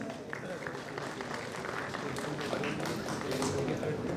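Applause breaks out at a pharmaceutical international conference, a steady wash of many hands clapping that holds through the moment, fairly close and even in level.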